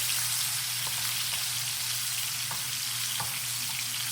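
Chicken breast searing in a hot pan gives a steady, dense sizzle and crackle throughout, close and even, with a few sharper pops and no voices.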